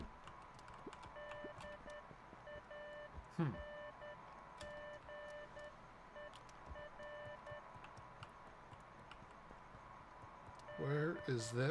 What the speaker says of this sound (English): Where is that beeping coming from?